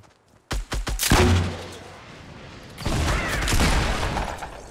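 Gunfire in the Fortnite battle royale: a quick cluster of loud, sharp shots, then a brief lull before a sustained burst of rapid firing that stays dense and close to the end.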